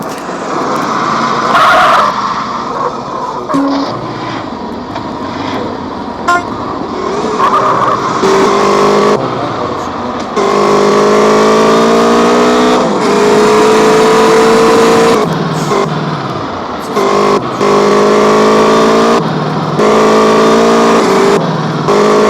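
A rented moped in the Ukrainian online game UA Online whines and revs loudly and steadily, its engine pitch climbing and falling in repeated surges with brief drops between them.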